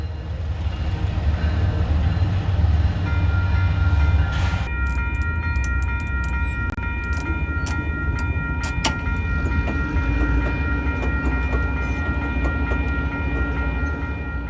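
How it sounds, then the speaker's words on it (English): An Idaho Northern & Pacific freight train arriving from Elgin rumbles steadily and loudly up close, with wheel clatter and squealing tones layered over a continuous low roar. "it shoves clear of Greenwood Street as our train from Elgin arrives"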